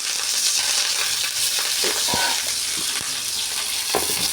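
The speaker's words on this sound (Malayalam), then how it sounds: "കടുക് പൊട്ടിക്കഴിയുമ്പോൾ കറിവേപ്പിലയും വറ്റൽമുളകും" Mustard seeds, curry leaves and dried chillies fry in hot oil for a jackfruit erissery, a loud continuous sizzle with a few sharp pops and scrapes of stirring, no talk.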